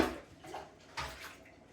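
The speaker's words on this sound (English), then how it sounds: "I'm pouring it through a sieve which is set in the colander." Rhubarb root dye liquid poured through a sieve set in a colander, a soft, quiet splashing trickle with a couple of brief louder surges, heard alone without talk.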